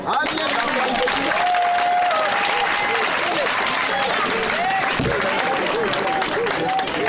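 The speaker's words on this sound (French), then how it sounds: "On acclame Jésus." A church congregation applauding, a loud, dense, continuous wash of clapping from many people, with voices and a singing or shouting tone mixed in.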